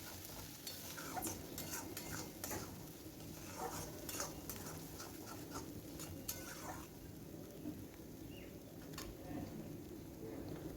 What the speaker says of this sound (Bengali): আঁচে বরবটিটাকে ভেজে নেব।